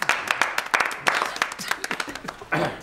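Audience applause with scattered claps and some light laughter, fairly close, lasting a few seconds.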